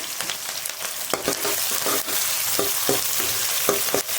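Crushed garlic, onion and curry leaves fry in a pan for a gravy of modakathan keerai, a steady close sizzle broken by intermittent stirring scrapes and taps.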